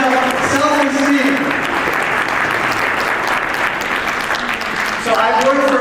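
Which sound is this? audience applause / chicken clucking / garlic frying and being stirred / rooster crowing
audience applause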